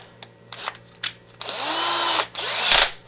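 A cordless power drill drives screws into an HPI Baja SS RC car, with several short whirring bursts followed by a longer sustained run that winds down, close and loud with no talking.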